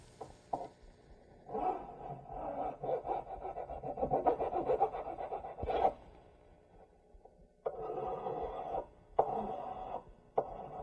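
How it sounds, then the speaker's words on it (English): A hand file rasps across the end of metal ring-sizing stock at a jewelry bench, with a long stretch of scraping strokes followed by shorter separate strokes, close and fairly quiet. "I want to cut the end of this, file the end of this a little bit straighter."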